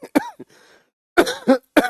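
A few harsh, throaty coughs, close and loud, with a short pause after the first burst and two more spaced coughs near the end.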